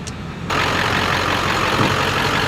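A 7.3 Powerstroke diesel in a Ford Excursion rumbles steadily after a short quiet start, a dense, loud, continuous engine roar with no talk over it.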